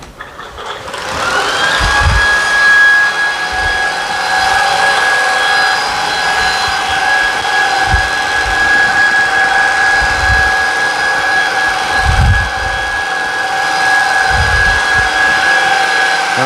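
A Shark Vertex cordless vacuum cleaner runs steadily on carpet and floors, a constant loud motor whine with a high tonal hum throughout, punctuated by occasional low thumps as the head moves.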